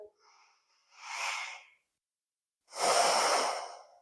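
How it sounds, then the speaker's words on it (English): Deep, slow breathing held in a yoga warrior two pose: a softer breath followed by a fuller, longer airy exhale, close and alone in a quiet room. "Let's take 3 breaths here in your warrior two."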